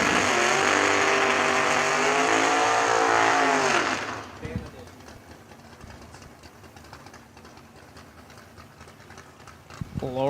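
Drag racing cars at full throttle down the strip, a loud sustained roar of rising engine revs for about four seconds, then cutting off abruptly to quieter crowd and track ambience with a commentator talking over it.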